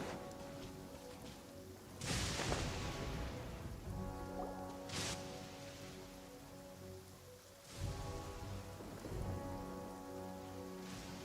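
Steady rain falls in the Genshin Impact video game, a continuous hiss of drops on surfaces with a few louder splashy bursts, alone with no voices.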